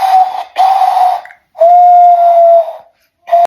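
Loud, hollow whistling made by blowing into cupped hands: two short blasts, a longer steady tone with a slight upward bend, then a brief final toot, each with a breathy edge and silent gaps between.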